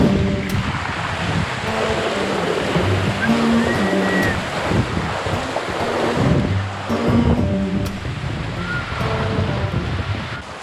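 Steady rush of sea waves and wind at sea aboard a sailing boat in a Mini Transat race, a continuous washing surge with gusty noise, fairly loud throughout.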